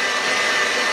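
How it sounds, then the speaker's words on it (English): A stand mixer whirring on high speed while sponge cake batter is mixed, a loud, steady, unbroken motor drone with a bright whine and nothing else over it. "while that's on high the whole time. Hence why I said it's good to have a stand mixer."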